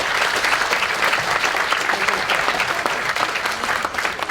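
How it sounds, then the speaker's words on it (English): An audience at a memorial evening applauding a family, dense continuous clapping from a sizable crowd, steady and fairly loud from start to finish, with faint voices under it. "How about a round of applause for some really great people,"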